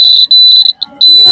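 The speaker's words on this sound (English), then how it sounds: "whenever earthquake is there, then an automatic alarm system will be there." A student-made automatic earthquake alarm at a school project demonstration shrills with a loud, piercing electronic tone in short repeated bursts with brief gaps, while a voice speaks faintly near the end.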